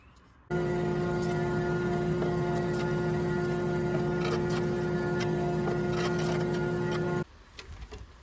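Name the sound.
drum sander flattening a wood lamination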